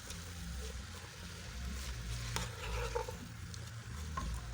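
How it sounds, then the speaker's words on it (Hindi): Spices frying in a pan with a splash of water for a potato and green bean curry, a continuous soft sizzle with scraping stir strokes and a low hum underneath. "थोड़ा सा मैं इसको भूनती जाऊंगी मसालों को"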